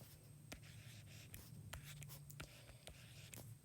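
Pen or marker writing fraction problems on a board, with steady scratchy strokes and short taps continuing for several seconds at close range, no speech.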